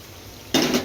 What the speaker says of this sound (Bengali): সরিষার তেলের ফোড়নটা দিয়ে দিলাম।